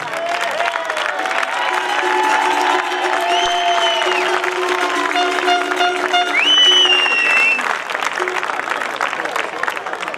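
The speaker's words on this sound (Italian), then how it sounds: "E forza con un altro applauso" Sustained applause with some cheering from the audience at the Villacidro Skyrace 2018 prize ceremony, loud and continuous, with music and a voice over a speaker carrying beneath the clapping.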